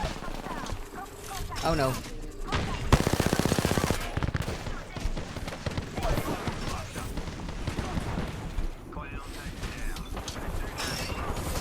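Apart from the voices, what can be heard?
gunfire in the video game Apex Legends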